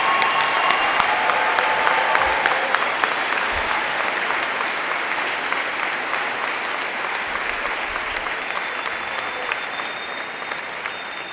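A large commencement crowd at Mount Mary University's Spring 2022 ceremony applauds bachelor's degree and certificate recipients with long, steady, full-hall clapping that holds throughout and eases slightly toward the end.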